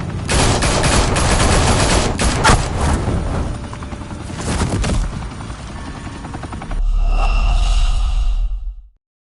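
Heavy sustained gunfire in a Batman game, a loud dense fusillade with sharper cracks rising from continuous rumbling noise, ending with a low droning mechanical hum that cuts off.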